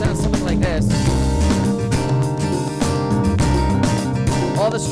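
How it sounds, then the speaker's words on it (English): Strummed acoustic guitar from a Roland FA workstation's SuperNATURAL guitar sound, rhythmic chord strums repeating steadily over a full accompanying backing track, loud and continuous with no talking. "a strumming guitar. And this is supernatural guitar,"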